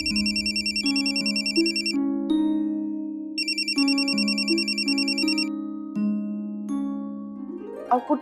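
A phone rings for an incoming call with a looping electronic ringtone melody, a steady repeating tune with bright chiming tones, loud and close, with no talk over it.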